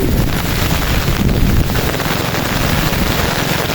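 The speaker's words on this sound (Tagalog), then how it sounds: "Suguri na naman natin ang malakas na ulan" Loud, dense downpour roaring steadily with a windy, buffeting hiss, constant throughout and close to the microphone.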